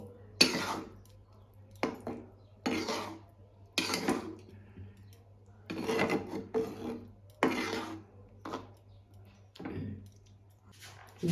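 Tomato chutney mixed with roasted five-spice powder is stirred in a pan, giving a series of about ten separate scraping, clattering strokes of a spoon against the metal with short quiet gaps between them, close up and without talking.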